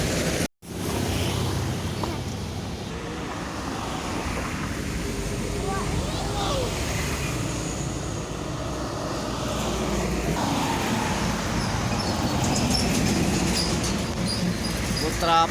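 A tourist coach passes close by outside a bus company depot in Palembang, its engine a loud, steady rumble that swells toward the end, with people talking in the background.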